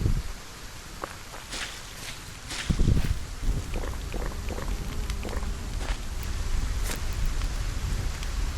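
Rain falling in the video game SolarPunk, a constant patter with scattered drops and soft footsteps or rustles over it.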